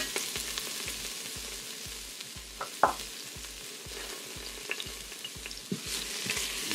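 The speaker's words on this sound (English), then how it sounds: "Then to that, I'm going to throw in my diced onions." Diced onions sautéing in olive oil in an electric pressure cooker give a steady close sizzle, with a soft periodic low thump and a few sharp clinks of a utensil against the pot.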